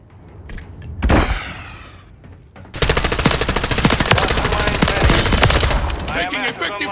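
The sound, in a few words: gunfire in Call of Duty Modern Warfare 3 video game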